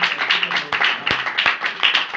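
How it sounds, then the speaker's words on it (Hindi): An audience at a religious gathering claps, quick fairly steady hand claps blending into brief applause at moderate loudness. "एक बार अपने लिए जोरदार तालियां बजाइए।"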